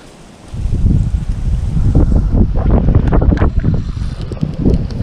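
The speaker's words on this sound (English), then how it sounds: "Apologize for the wind." Strong wind buffets the microphone beside a private pond, loud gusty low rumbling that starts suddenly and keeps roaring in uneven bursts with no talk.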